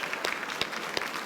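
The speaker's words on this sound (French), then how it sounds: "oui, on peut l'applaudir" Audience applause at an award ceremony for the Trophée excellencia, a steady wash of many hands clapping at moderate level with a few sharper claps standing out.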